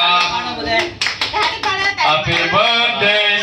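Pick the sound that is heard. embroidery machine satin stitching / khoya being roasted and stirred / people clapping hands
people clapping hands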